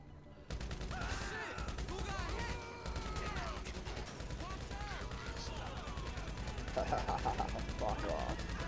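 Rapid, sustained gunfire from a big gun in GTA Online, the shots running almost continuously over background game sound with some tonal voice-like sounds.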